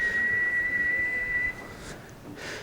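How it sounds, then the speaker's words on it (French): Shepherds' whistled Spanish from the Canary Islands, carried from mountain to mountain: one long, steady, piercing tone held for about a second and a half, then fainter short whistled calls further off. "des gens qui sifflent au lieu de parler parce que, par exemple, aux Canaries, ça permet aux bergers de communiquer d'une montagne à l'autre"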